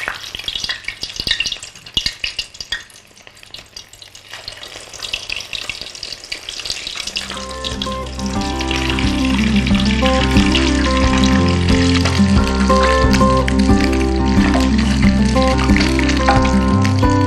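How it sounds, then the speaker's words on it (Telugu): Food deep frying in hot oil, a dense, steady sizzle and bubbling that grows louder and fuller partway through, with background music joining and continuing under the frying. "ఇప్పుడు మనం దీన్ని డీప్ ఫ్రై చేద్దాం."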